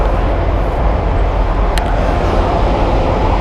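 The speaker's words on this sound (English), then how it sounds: "Nice. A train." A loud, steady low rumble of a passing train fills the whole stretch, with a brief sharp click partway through and no talking.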